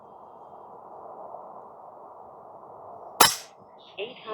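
An FX Airguns Crown MkII air rifle fires a single pellet or slug with one sharp, close crack over a low steady hum, followed by a few brief faint tonal pings.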